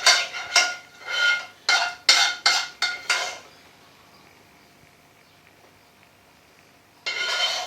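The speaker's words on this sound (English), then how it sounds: "On it goes. And we'll spoon in some of this sauce." A spoon clinks and scrapes against a pan while sauce is ladled over sirloin steak, a quick series of about eight sharp metallic knocks, a quiet pause, then another scrape, close by.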